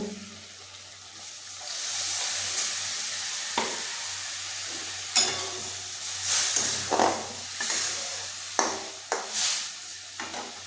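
Water is poured into sautéed masala with potatoes and boiled lentils in a pot, raising a loud hissing sizzle that swells and then breaks into bubbling, clattering bursts near the pan.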